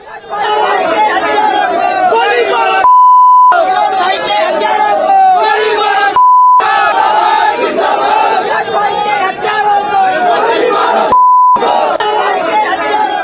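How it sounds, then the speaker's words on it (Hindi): A large protest crowd chants Jai Shri Ram slogans in loud, dense, rhythmic unison, sustained throughout and broken by brief gaps carrying a steady beep tone. "प्रदर्शनकारियों की भारी भीड़, जय श्री राम के नारे लगने शुरू हो गए"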